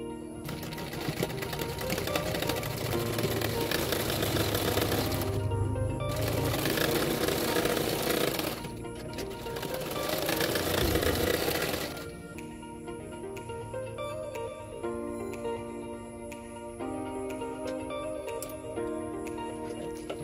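A sewing machine runs in long bursts while stitching a katori blouse for fitting, with a fast, continuous, close mechanical rattle that pauses briefly and then resumes. A quieter hum follows after the last burst.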